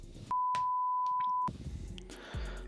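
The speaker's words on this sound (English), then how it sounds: "Okay, it was beeping there." A single long electronic beep, a steady pure tone lasting about a second, with clicks and handling noise around it.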